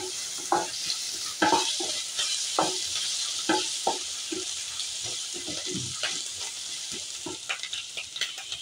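Onion with ginger garlic paste stir-frying in a pan, a loud continuous sizzle broken by repeated scraping strokes and knocks of the spatula at an uneven rhythm, close and with no talking.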